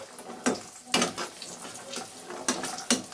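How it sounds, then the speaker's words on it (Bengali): Bori lentil dumplings sizzle in hot oil in a pan, a steady crackling fry broken by periodic scraping bursts as a spatula stirs them, close and moderately quiet with no talking. "নাড়াচাড়া করে আমি ভেজে নিলাম।"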